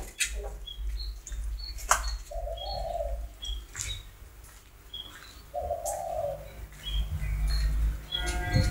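Spotted dove decoy birds give two clear, soft cooing phrases several seconds apart, mixed with scattered chirps, clicks and a low rumbling background, with no talk.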